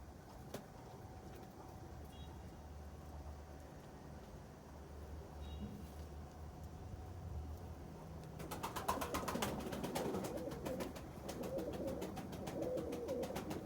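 Pigeons of four blood lines, smoky grey and smoky speckled, coo softly in the background over a low hum, joined later by a rapid fluttering of wings; no one speaks.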